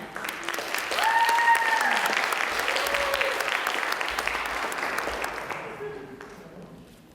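An audience claps for a contestant at the Miss Indian UNM pageant, a full round of applause that swells, holds, then fades out, with a few whoops and voices over it.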